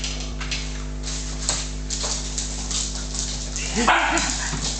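Dogs indoors give short yips, whimpers and barks over a steady electrical hum, with a louder burst of barking near the end.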